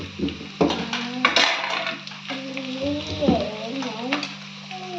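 Spices sizzle and crackle in a hot pan for sambar rice, with loud stirring scrapes and clinks over a steady frying hiss, close and alone.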